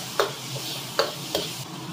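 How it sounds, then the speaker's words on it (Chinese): Minced meat stir-frying with cucumber slices in a wok gives a steady close sizzle, broken by three sharp clicks of a utensil scraping and tapping the pan. "肉炒黄瓜钱儿，下入肉末"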